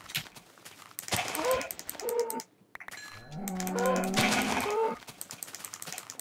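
A Minecraft cow gives drawn-out, tonal moos in two separated calls, fairly close and loud, with brief game clicks and shuffling around them.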